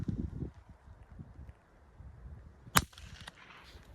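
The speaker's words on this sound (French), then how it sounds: "On entend l'impact de la balle dans le sol." A single sharp crack of a .22 Long Rifle shot fired outdoors during a precision test, standing out loud against a background of light wind and faint rustling, followed by a brief softer tail.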